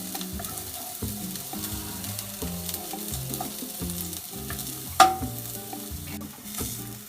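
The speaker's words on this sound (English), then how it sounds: "you can use a wooden spatula, and we're just going to saute this until it becomes light brown" Garlic sautéing in a pan for Filipino chicken adobo, stirred with a wooden spatula: a steady soft sizzle with small scraping strokes, heard beneath prominent tonal background music throughout.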